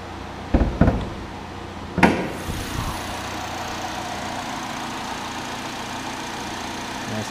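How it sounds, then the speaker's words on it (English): A 2009 Chevy Cobalt with an EcoTech engine, heard as a few sharp knocks and a thud, then a steady, smooth, fairly quiet idle that runs on evenly at close range. "And running nice and smooth. Nice and quiet. That's a 2009 Chevy Cobalt."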